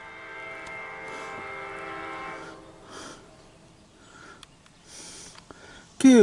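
A CSX Q415 mixed freight train heading eastbound on track 2 sounds a steady horn for about two seconds. A faint rumble and scattered clatter follow, and the clip ends with a sudden loud burst.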